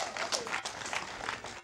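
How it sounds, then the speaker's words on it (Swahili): A church congregation at a fundraiser for building a church claps together in praise, a brief burst of crowd applause mixed with voices. "Tumpigie Mungu makofi"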